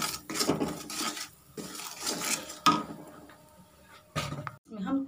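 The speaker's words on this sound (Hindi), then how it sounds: "एक टेस्पून हम हल्दी पाउडर डालेंगे और उसे अच्छे से हम मिक्स कर लेंगे।" A spoon scrapes and clinks in a pan as turmeric powder is mixed into a green pea filling, short irregular scraping strokes with pauses between them, close by.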